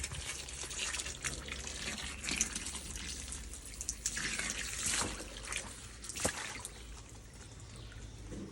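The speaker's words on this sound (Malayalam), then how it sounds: "ടാങ്കിലേക്ക് ഈ വെള്ളം നിറച്ചു കൊടുക്കാം കേട്ടോ." Water pouring into a fish tank for alligator gar, a faint continuous trickle and splash with occasional louder gurgles, no talk.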